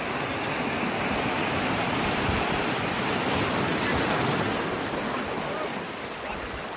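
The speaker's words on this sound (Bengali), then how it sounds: "এবং সমুদ্রের গর্জন" Ocean surf roars continuously on the shore at Saint Martin Island, Bangladesh, a loud, dense wash of breaking waves with wind buffeting the microphone, easing slightly near the end.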